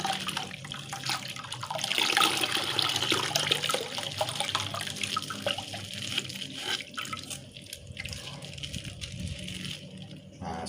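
Old coconut water, about two liters, being poured into a container while making photosynthetic bacteria culture, giving a steady splashing liquid stream that runs close and continuous for several seconds before easing off, with no talking.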